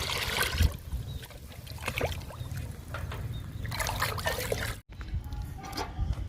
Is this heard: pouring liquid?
yes